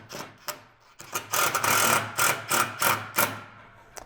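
A self-tapping screw is driven with a square drive bit on an ADA pipe rail return kit, giving a run of short buzzing bursts with brief pauses between them, close and fairly loud, with no talking.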